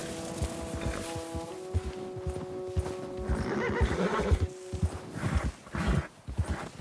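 A horse in Red Dead Redemption 2 gives a long, wavering whinny over steady clip-clopping hooves on snow, then the hoofbeats carry on alone, close and clear.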